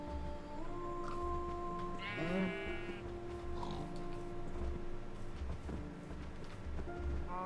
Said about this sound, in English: Where's this pig?